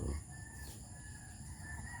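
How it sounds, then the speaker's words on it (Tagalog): Chickens clucking and calling close by, over a steady low rumble of background noise, with no voices. "Ito nga po palang mga manok na ito."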